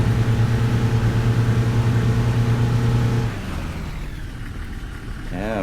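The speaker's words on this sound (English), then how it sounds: "It's not even diesel; it just sounds like an old petrol engine." Old petrol bus engine in the Fernbus driving simulator, a steady loud droning hum with a tonal whine that drops to a lower, rougher rumble partway through.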